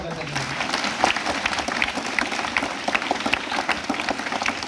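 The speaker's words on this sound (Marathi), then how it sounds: "त्या जोरदार टाळ्या पण" Loud, sustained applause from an audience at a lecture for Dr. Babasaheb Ambedkar's birth anniversary, dense steady clapping lasting throughout with a speaker's voice carrying over it.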